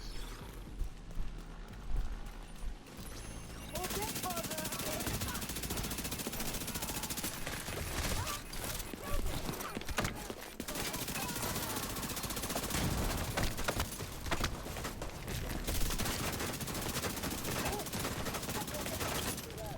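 Sustained gunfire rattles through a firefight in the video game The Division 2, with fast automatic bursts and overlapping shots continuing almost without pause at a fairly even loudness.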